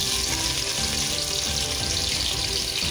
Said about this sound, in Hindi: घी हमारे मेल्ट हो चुके हैं, अब मैं इसमें अपने प्याज डालूंगी